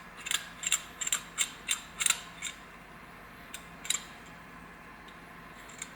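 An emergency handle is screwed onto its threads during a Daytona Coupe build, giving a quiet run of small, sharp mechanical clicks. They come in a quick series of about ten over two seconds, then a few sparse ones follow.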